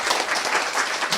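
An audience at a graphic novel award event claps in brief, dense applause filling the room.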